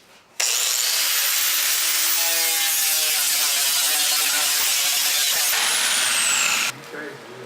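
Power tool abrading the galvanized coating off a steel motorcycle rear fender, a loud continuous grinding whine with a slowly shifting pitch that starts abruptly and cuts off after several seconds, no talk.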